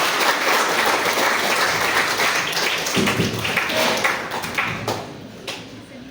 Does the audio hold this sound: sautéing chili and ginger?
no